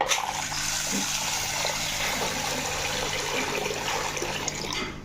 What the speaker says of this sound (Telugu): రెండు గ్లాసుల బియ్యం వేసుకుని రెండుసార్లు కడిగేసుకుని వాటర్ వేసి నానబెట్టుకుందాం